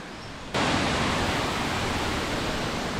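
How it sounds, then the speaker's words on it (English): Waterfall on Siargao Island in the Philippines: after a quieter first half-second, a loud, steady broadband roar of falling water sets in and holds evenly to the end, with no voices. "That's the waterfalls over there."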